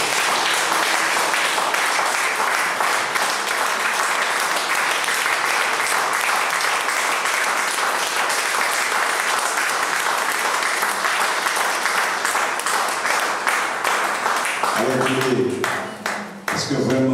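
A church congregation in Martinique bursts into sustained, dense applause that fills the space loudly, fading near the end as a voice begins speaking over it.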